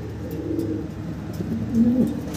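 Pigeons in a seller's loft, a pair with the male calling, give low, steady cooing over a soft background murmur, swelling louder near the end.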